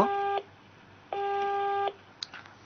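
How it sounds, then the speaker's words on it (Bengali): A telephone busy tone follows a disconnected phone-in call on a radio talk show: two long, steady electronic beeps separated by a pause, clear and alone. "এই নিয়ে তৃতীয় ফোন যান্ত্রিক গোলযোগের কারণে বিচ্ছিন্ন হয়ে গেল যোগাযোগ"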